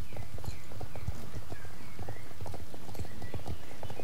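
Horse hooves clip-clopping on sand in the Star Stable Online video game, a steady stream of close, fairly loud footfalls in a quick rhythm, with a brief whinny-like sound and no talk.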